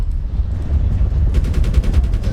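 Rapid automatic gunfire from an Apache attack helicopter in the Medal of Honor video game, a dense rolling burst of shots with heavy low rumble that continues without a break.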